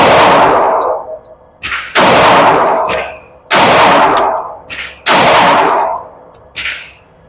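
Four loud pistol shots from a Sig Sauer xTen at an outdoor range, each a sharp crack with a long ringing decay, fired at a steady pace roughly every one and a half seconds.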